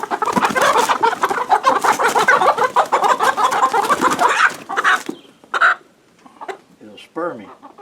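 A small flock of chickens clucks and squawks busily and close by while one bird has a wing trimmed, with the noise thinning to scattered calls toward the end.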